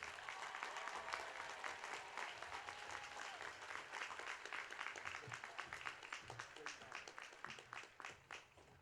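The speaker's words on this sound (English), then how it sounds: "Let's give them another round of applause." A crowd claps steadily at a high school graduation ceremony, a dense sustained round of applause, faint and distant, with individual claps standing out toward the end.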